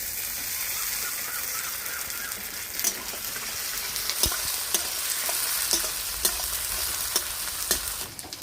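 Chopped tomatoes and onions fry in a pan for chicken bhuna khichuri, giving a steady close sizzle. Scattered scraping clicks from stirring grow more frequent toward the end.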